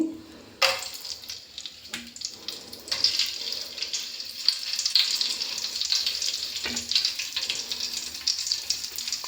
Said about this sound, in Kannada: ಇದನ್ನೆಲ್ಲ ಫ್ರೈ ಮಾಡ್ಕೊಳ್ಳಿಕ್ಕೆ ಈಗ ನಾನು ಕಟ್ ಮಾಡ್ಕೊಂಡಿರುವಂಥ ಈರುಳ್ಳಿನ ಮತ್ತು ಫಸ್ಟು ಚಕ್ಕೆ ಲವಂಗ ಹಾಕ್ಕೋತೀನಿ